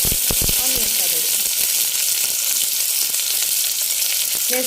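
Sliced onions sizzle loudly and continuously in a hot pan, a close, dense hiss of frying that holds steady throughout, with a brief voice near the start.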